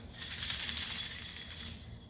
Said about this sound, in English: That sound is jingle bells.